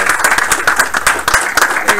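Applause from an audience at a game studio build review, a dense steady spread of clapping with voices mixed in.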